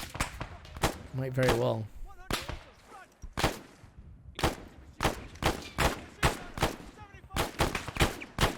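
Gunfire in Arma 3, a near-future world war combat game, with rapid sharp shots in a loose irregular rhythm, then bursts of closely spaced rounds, loud and close, with a voice speaking briefly over the early shots.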